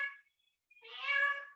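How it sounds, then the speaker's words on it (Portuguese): A pet cat indoors gives a short meow, then after a brief silence a longer, louder, drawn-out meow close by. "Um gato aí."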